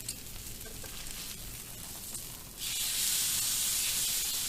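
Pork tenderloin hisses on a hot grill grate, a steady background sizzle that swells louder and brighter after the meat is flipped.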